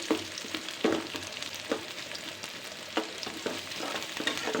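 Onion, garlic and dried chili frying together in oil for a dal tempering, giving a steady hiss with a series of spoon scrapes and knocks spaced through it, near and with no speech.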